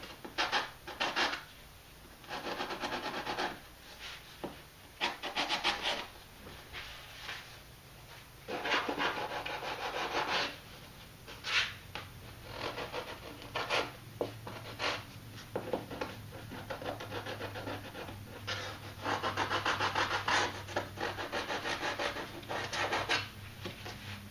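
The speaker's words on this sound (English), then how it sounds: "take my little sanding block here and kind of clean those up" Repeated rasping strokes of a sanding block on wood, coming in bursts with short pauses between them, close and fairly loud, cleaning up parts of a resonator guitar kit during back glue-up.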